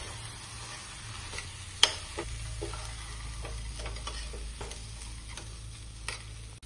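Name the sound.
stir-frying masoor lentils in a pan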